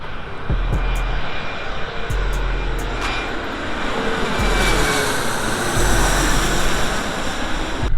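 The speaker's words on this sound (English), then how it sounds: "This is gonna be a big plane." A large jet airliner, likely a Boeing 777, approaches the runway at LAX, its engines roaring steadily and growing slightly louder over eight seconds, with wind noise and no talking.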